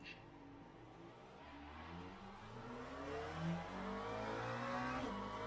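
Inside a race car in Le Mans Ultimate at Paul Ricard, the engine revs and whines with rising and falling pitch during a spin, heard fairly quietly, with faint tire noise.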